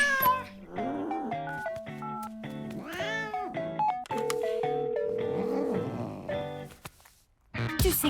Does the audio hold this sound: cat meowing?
yes